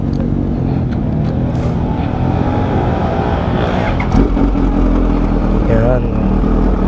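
A Kawasaki H2 Carbon motorcycle idles close by with a steady engine rumble, while someone talks over it.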